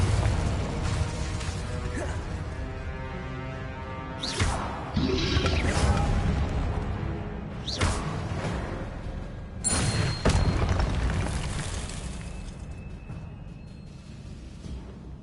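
Spell blasts from Incendio and Confringo in the Hogwarts Legacy video game: several sharp bursts and booming impacts at irregular intervals over a continuous game soundtrack, with a few louder crashing hits.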